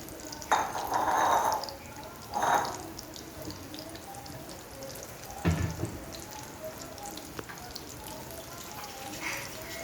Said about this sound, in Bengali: তো পকোড়াগুলো ভাজা হচ্ছে।